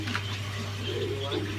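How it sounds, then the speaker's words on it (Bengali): A pair of Bombay pigeons at a pigeon farm coo softly in low, rolling murmurs, with a steady hum beneath. "খুব সুন্দর একজোড়া বোম্বাই কবুতর"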